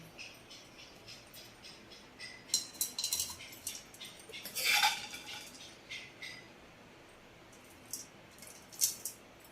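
A spoon scrapes and clinks against bowls as fried raw banana pieces are moved into another bowl, with scattered faint metallic taps and one louder clatter in a quiet kitchen.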